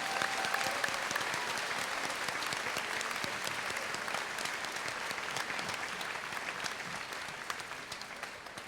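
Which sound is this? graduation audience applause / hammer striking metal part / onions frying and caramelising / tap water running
graduation audience applause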